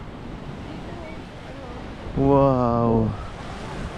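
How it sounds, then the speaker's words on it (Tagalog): Steady roar of strong ocean surf and wind washing over a beach, with a person briefly exclaiming partway through. "Pero ngayon, medyo malakas yung alon."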